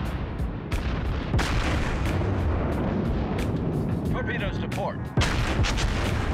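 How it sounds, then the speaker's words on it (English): Naval artillery in the World of Warships video game, booming salvos and heavy impacts over a constant loud rumble, with someone talking over parts of it. "I think I just shot the shit out of this island."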